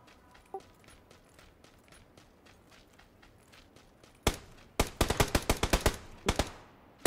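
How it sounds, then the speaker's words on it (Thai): Automatic gunfire in the battle royale game PUBG: faint distant shots at first, then a loud close burst of rapid rhythmic shots in quick succession, ending with one more sharp report. "มันยิงพี่ว่ะยิงมาได้ไหม"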